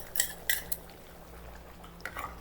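Pork ribs kaldereta being stirred in a pot, with a few bright clinks and scrapes of a utensil against the metal, close and brief, over a low background hum.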